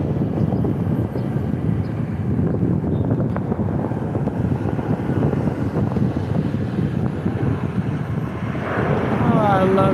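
Lufthansa airliner passing at Newark Liberty International Airport, a loud sustained jet roar with heavy wind buffeting on the microphone, steady throughout.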